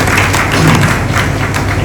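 Applause from an audience honoring saints at the Shri Gopinathji Swaminarayan temple in Gadhada, a steady wash of clapping with low thumps running evenly throughout.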